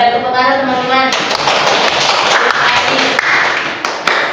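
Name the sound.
classroom children clapping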